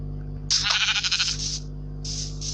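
A sheep in a survival video game bleats in one long wavering cry, followed by two shorter bleats, loud and close over a steady low game hum with no talking.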